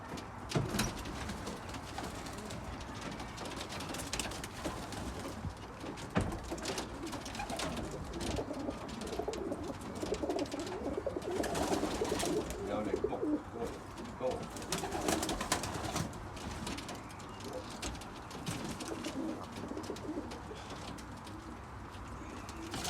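Racing pigeons coo softly in a loft, their low repeated calls mixed with rustling and occasional background voices.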